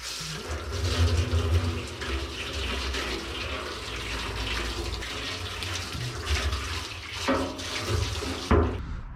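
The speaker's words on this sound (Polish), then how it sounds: "Puszczę wody do beczki." Water gushes steadily from a tap into a barrel, a continuous rushing splash heard up close, with a couple of short knocks near the end and no talking.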